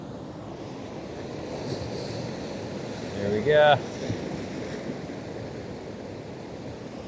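Ocean surf washing steadily against a rocky seashore under wind noise, with one louder wave surge in the middle and someone speaking briefly.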